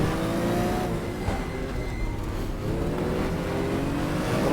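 A race car engine from the GTR2 Power & Glory mod, a Porsche 914-6 or 911 on track. It revs loud and close as a steady, rising drone with layered harmonics and no break for the whole stretch.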